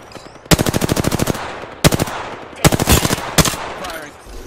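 Automatic gunfire in the video game Apex Legends rings out in loud, close rapid bursts, a long stream followed by several shorter volleys with brief gaps between.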